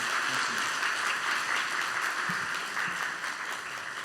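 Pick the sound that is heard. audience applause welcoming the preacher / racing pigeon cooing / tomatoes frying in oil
audience applause welcoming the preacher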